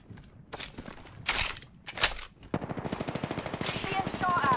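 Rapid gunfire from an Apex Legends match, with a few separate bursts followed by a long sustained volley of automatic shots, moderately loud.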